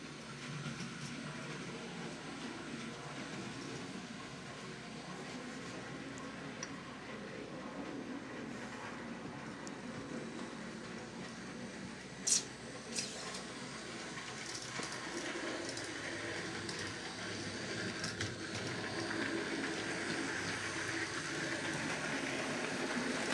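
A steady rumbling clatter of a freight train rolling on rails, continuous and moderately distant, with a sharp metallic clank partway through, as a broken coupling lets the last trucks derail.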